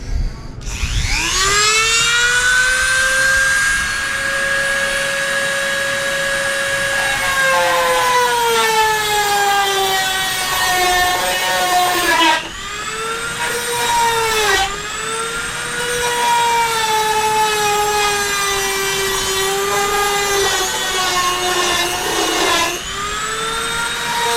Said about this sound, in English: have my cutting bit on my Dremel. So I'll make a cut the top part off right above this line.